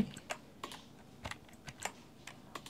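Irregular taps of typing on a computer keyboard, with a series of sharp, separate clicks that are close and moderately quiet, and no voices.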